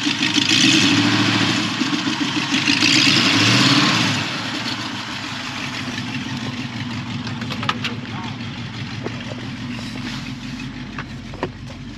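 A 1966 or 1967 Ford Mustang's basic 289 V8 idles with a loose, uneven lope, loud at first and then settling. A few clicks sound near the end, and voices talk over it in places.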